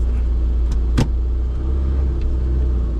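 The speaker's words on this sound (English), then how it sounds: "fires up nice and cleanly off the choke" A classic Mini Cooper RSP engine idles with a low, steady rumble after starting on choke, close and continuous, with a brief thump near the start and no voices.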